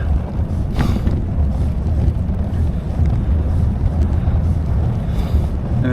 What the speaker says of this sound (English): It's been kind of a slog because of this headwind.